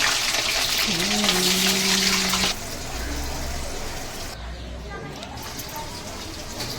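Raw banana pieces fry in hot oil with a loud, steady sizzle that drops in level partway through, while someone talks over it.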